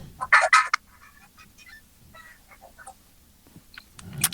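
A voice imitates a rooster crow meant to stand in for a car horn, a short loud burst followed by fainter scattered squeaks and clicks.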